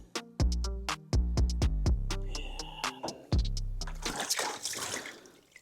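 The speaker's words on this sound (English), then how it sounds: "That was a lot of water. It just splashed everywhere." Water poured over a baseball glove during break-in, with sharp splashes and drips in quick irregular bursts, followed by a heavier trickling pour at the end.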